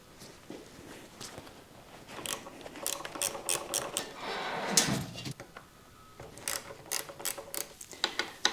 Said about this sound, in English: you can crack the bolts underneath and get them loose before you take the bar out